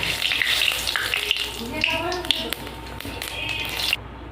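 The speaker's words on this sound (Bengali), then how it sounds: "যে তেলের উপর জিরে দিয়ে দেবো।" Cumin seeds dropped into hot mustard oil crackle and sizzle close up in an irregular series of sharp pops, with faint tapping of a utensil and a sudden cutoff at the end.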